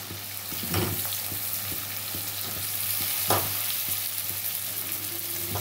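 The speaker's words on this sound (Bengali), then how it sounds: "এবার দিয়ে দেবো মাশরুমগুলো" Mushrooms sizzle and fry in a hot pan, a steady crackling hiss broken by a few brief stirring scrapes and clinks, close and continuous with no talking.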